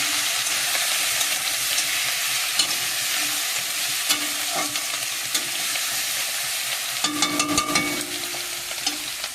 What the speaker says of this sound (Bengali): দিয়ে চিংড়ি মাছটা ভেজে নেব।